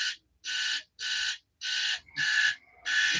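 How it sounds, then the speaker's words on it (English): An electronic alarm blares in six loud, evenly spaced bursts of high buzzing tone, each lasting about a third of a second, with short silent gaps between them, heard during a live reptile-handling stream featuring baby rattlesnakes. "Sorry, guys, that damn alarm is going off."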